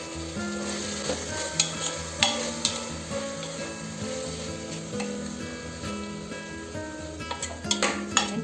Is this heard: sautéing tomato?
yes